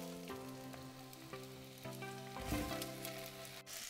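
Vegetables tipped into smoking-hot oil in a pan for beef bourguignon, giving a steady broadband sizzle throughout with a louder surge of frying near the end, plus faint clinks; no one speaks.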